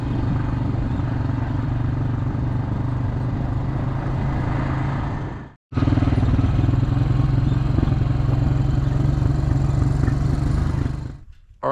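Four-wheeler ATV engine running while driving, a continuous low rumbling drone with clattering, cut by a brief dropout midway and stopping near the end.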